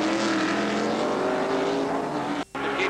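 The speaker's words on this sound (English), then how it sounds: "They're coming down the straightaway, which moved by Vern Smith" Heavy 1981 IMSA race cars of over 4,000 pounds roar down the straightaway at Pocono, a steady loud engine drone with a brief dropout near the end.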